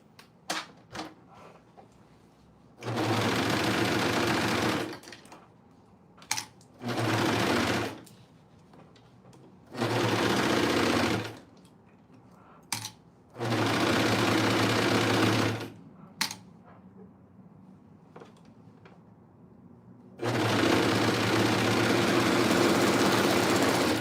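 A sewing machine stitches Oakley bottoms in five separate bursts of steady, rapid whirring, each running several seconds, with quiet pauses and small clicks between them.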